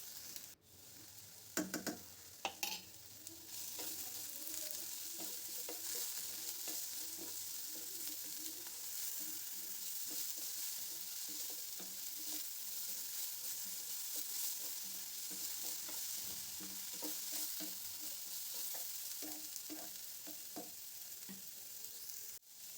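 Beto greens fry in a pan with a steady, close sizzling hiss throughout, and scattered scrapes and knocks from stirring, louder near the start and again toward the end, with no talking.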